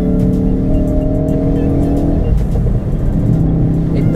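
A turbocharged Ford Focus RS hatchback engine pulls hard under heavy acceleration, a loud, close, continuous roar that climbs and surges, with no talking.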